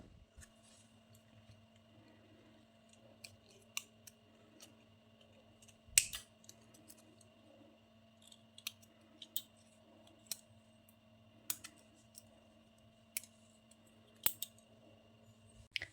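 Scissors snipping craft material into shape, a dozen or so faint, scattered cuts spread irregularly over a quiet background hum.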